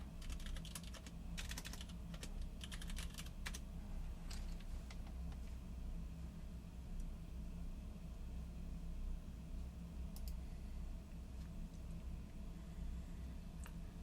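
Typing on a custom-built keyboard fitted with Nixie switches, producing bursts of quick clicky keystrokes early on and a few scattered presses later over a steady low room hum.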